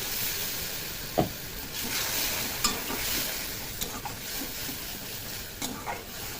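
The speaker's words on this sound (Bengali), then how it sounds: "মশলাটা যতক্ষণ তেল না ছাড়ছে মশলাটাকে কষিয়ে নেবো।" Masala spices for chana masala frying in oil and being stirred in a pan: a steady close sizzle and hiss, broken by a few sharp clicks of the spoon against the pan.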